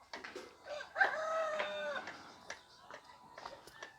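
Roosters crowing near bamboo huts in a village, a couple of drawn-out, harmonic calls rising and falling over a few seconds, moderately close, with faint background voices around them.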